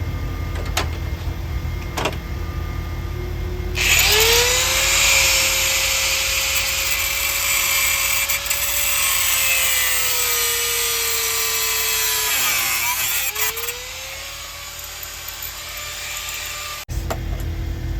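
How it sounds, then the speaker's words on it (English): An abrasive cutoff wheel grinds through a bolt during bed repair work, a loud, sustained high-pitched whine and hiss that drops in pitch under load midway, pauses briefly, then resumes before cutting off. "My cutoff saw blade is bad, so I'm probably gonna have to use my cutoff wheel."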